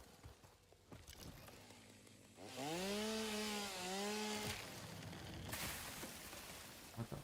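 Chainsaw in the video game Satisfactory, starting up and running loud for about two seconds with a rising, wavering engine whine over a noisy background, then cutting out.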